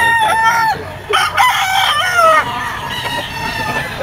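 A bull stag rooster, a banderado with yellow legs, crows loudly and close at a rooster market, with other fowl clucking and crowing around it.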